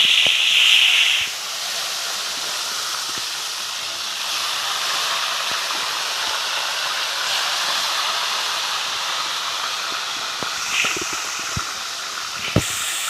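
A blender grinds chili peppers for balado sauce with a loud, steady whirring hiss that holds throughout, with a few faint clicks and knocks.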